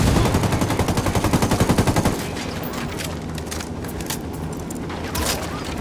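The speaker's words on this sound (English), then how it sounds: "Fucking Apache's about to fire." Rapid automatic gunfire from an Apache attack helicopter in the Ghost Recon Wildlands video game, with a loud, fast rhythmic burst for about two seconds followed by more scattered distant shots and battle noise.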